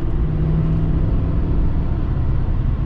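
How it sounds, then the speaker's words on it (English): A low, steady diesel engine drone with a deep rumble, heard from inside a 2020 Duramax pickup truck as it cruises at an even pace; no talking. "you can very much hear the diesel sound in this"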